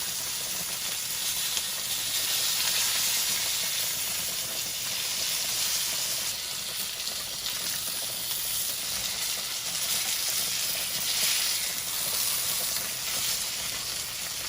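Country fried steak frying in a pan, a steady bright sizzle and hiss of hot oil running continuously and fairly close, with no talk over it.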